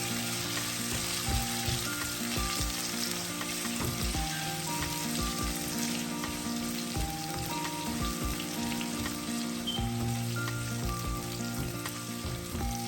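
Two chopped tomatoes sauté in a pan for a Sri Lankan chicken liver fry, a dense steady crackling sizzle running throughout with faint intermittent stirring clicks and a low background hum, no talking.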